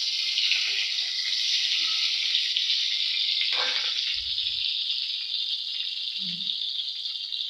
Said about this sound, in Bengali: এই যে ডিমগুলো আমি তেলের উপর ছেড়ে দিলাম।